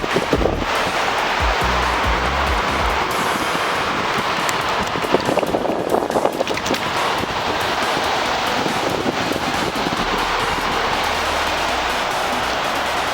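Sea waves at Umbergaon beach in the rainy season, with muddy brown water: a steady, loud roar of surf breaking continuously, mixed with gusty wind buffeting the microphone.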